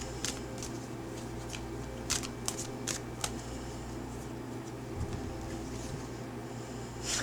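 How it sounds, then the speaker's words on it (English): Tarot advice cards being shuffled, soft riffles and sharp slaps of the deck in irregular bursts, close and quiet over a faint room hum. "but I'm going to pull some advice cards anyway."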